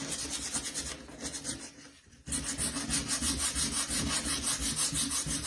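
Sandpaper rubs back and forth over a rustic wooden blueprint-style sign in quick rhythmic strokes, close and crisp, pausing briefly before resuming; no talking.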